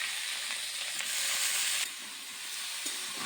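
Cut bottle gourd drops into a hot cooking pan already holding potatoes and five-spice seasoning, setting off a loud, bright sizzle that surges briefly and then settles to a steady hiss, with no talking.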